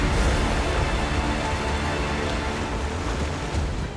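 Sea waves churning loudly near an island, a continuous heavy wash of surf with wind buffeting the microphone, no voices.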